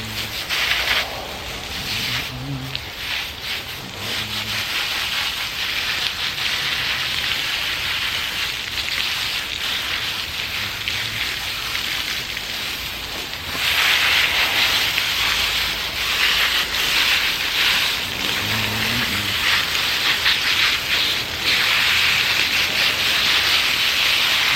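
Garden hose spraying water over freshly dug dahlia tubers outdoors to wash off dirt, a steady hissing, splattering wash that runs continuously and close, with surges in force partway through.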